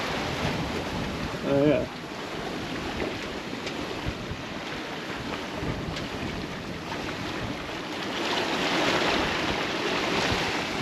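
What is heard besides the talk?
waves and wind while sailing a boat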